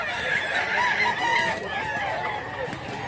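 A rooster for sale at a market in Mantalungon, Cebu crows in a long drawn-out call close by, with chicken clucking and faint background voices.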